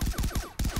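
Automatic gunfire in the video game Far Cry 3 Blood Dragon: rapid, loud, evenly spaced shots in two quick bursts separated by a brief pause.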